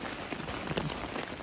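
Steady rain falls during a multi-day bushwhacking camping trip, a dense, even patter of drops hitting surfaces outdoors, continuous and moderately loud with no talking.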